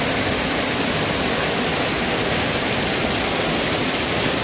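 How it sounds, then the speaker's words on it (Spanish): A small waterfall on a little-known river in Mercedes Umaña, Usulután, El Salvador, pours in a steady, dense broadband rush that stays loud and close for the whole stretch, with no voices over it. "pero vamos a bajar para ver esa cascada que está aquí."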